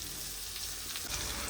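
Onion, garlic and curry leaves sizzle in oil for tempering a village-style country chicken curry: a continuous soft crackling fry at close range, faint and steady throughout with no voices.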